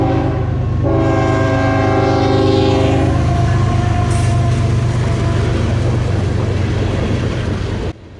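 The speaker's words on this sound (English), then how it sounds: "And here's Adam's shot of the Metra Locomotive 213" A Metra locomotive, number 213, rolls past loud and close with a steady heavy rumble of wheels and cars, a long sustained horn blast sounding over the first few seconds, running on the CSX Chattanooga Subdivision.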